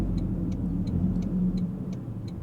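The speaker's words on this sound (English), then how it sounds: "Things like the turn signal sound." Turn signal of a 2025 Toyota GR Corolla with automatic transmission ticks steadily, roughly three clicks per second, faint and crisp over a low cabin rumble.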